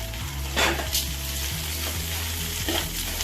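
Spices dry-roasting in a pan for homemade rasam powder, with a steady low sizzle and repeated scraping stirs across the pan, close and moderately loud, no talking.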